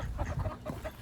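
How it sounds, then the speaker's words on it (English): Young ducks on their first day out exploring give a few short, close quacks in a brief burst. "The ducks that are doing their first day of exploration."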